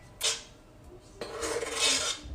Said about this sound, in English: just use your other spoon to scoop that in